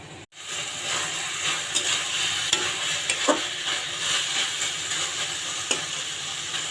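Bottle gourd leaves frying in a pan, a continuous moderate sizzle with occasional clicks and scrapes of stirring, close and steady.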